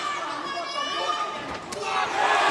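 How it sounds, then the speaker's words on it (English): A packed hall crowd in Dublin roaring and cheering for a fighter at a combat sports event, a dense loud wall of voices that swells louder toward the end. "McGregor's also got a packed hall here in Dublin, right behind him, cheering on every single one of his movements"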